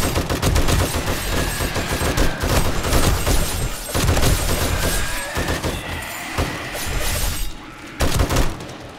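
Armor-piercing rifle rounds fire in rapid bursts at zombies in a horde-defense survival game, dense loud gunfire with crashing impacts and breaking sounds. The volleys carry on almost continuously and drop off near the end.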